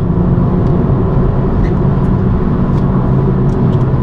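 A BMW M135i on a road in Northern Scotland, engine pulling steadily under acceleration as the gas is applied; a loud, continuous low rumble with road and wind noise throughout, no talking.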